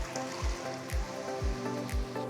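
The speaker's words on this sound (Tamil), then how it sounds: "இப்போ வேக வச்ச கடலையை இதில் சேர்த்துடலாம்" Boiled chickpeas with their cooking water poured into a pan of sautéed tomatoes for Kerala kadala curry, a continuous sloshing pour with rhythmic low gulping surges, close and steady.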